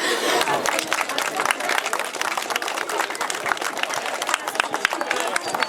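Dense, sustained audience applause at a Tree Day celebration in Ostrów Wielkopolski, many hands clapping loudly and steadily with crowd murmur underneath for the whole stretch.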